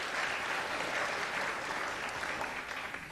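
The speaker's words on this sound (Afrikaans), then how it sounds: "Kan ons ook vir die mense hande klap" A church congregation claps hands together, a dense, steady wash of applause filling the room and holding loud from start to finish.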